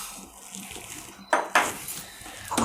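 Dry coriander seeds rattle and clatter as a measuring cup scoops them up, with a couple of sharp, close bursts of grainy rustling and a quieter one at the end.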